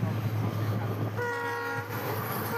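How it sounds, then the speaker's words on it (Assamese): A train approaches through the hills of Karbi Anglong in Assam, its low rumble steady before the horn sounds for under a second midway, then the rolling noise carries on. "এই দেখিছে ট্ৰেইন এখন আহি আছে।"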